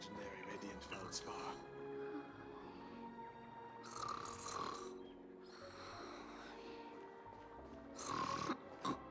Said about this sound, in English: These girls are snoring.